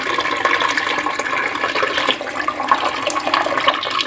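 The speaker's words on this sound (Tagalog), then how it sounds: "Mainit na tubig galing sa thermos." Hot water pours steadily from a thermos in a loud, continuous rush, splashing into a container without a break.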